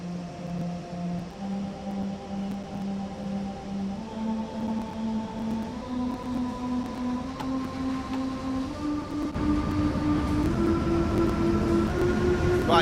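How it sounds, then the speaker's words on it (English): A train in the simulator game Train Sim World 2 accelerates with a rising electric motor whine that steps up in pitch, alongside a steady rumble and rail noise, continuous and fairly close. "It's been a while since I've drove this particular train,"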